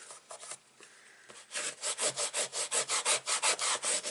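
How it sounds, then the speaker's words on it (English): A bone folder rubs firmly over a paper album page in a steady run of about a dozen even back-and-forth strokes, close and clear. Softer, scattered scraping comes first. "Always give it a good rub,"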